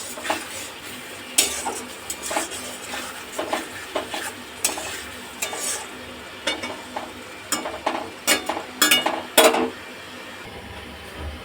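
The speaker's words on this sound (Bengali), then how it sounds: "মশলাটাকে আর একটু ভালো করে কষিয়ে নেব।" Spice masala and potatoes fry in a pan while a utensil stirs and scrapes, giving irregular close clinks and scrapes over a steady background sizzle, with no talking.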